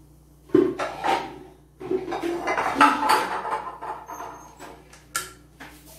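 Metal pots and a frying pan clatter and scrape on a stovetop while coconut oil is made at home, with several sharp knocks and rattles close by, no voices.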